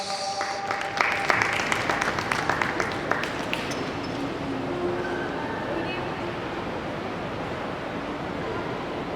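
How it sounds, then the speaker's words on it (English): A crowd applauds at a teen debate event, with dense clapping loudest in the first few seconds and then settling into a steady, diffuse wash of room noise. "can we give her a big round of applause?"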